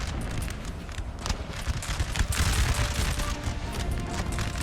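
Musket volleys crackle from massed infantry in a Total War: Napoleon battle at Waterloo, a dense ragged fusillade of overlapping shots rolling continuously and loud, with no voices over the gunfire.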